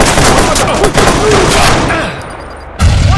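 Dense, loud gunfire from a Watch Dogs shootout, a continuous rattling fusillade that fills the moment before a sudden heavy burst at the end.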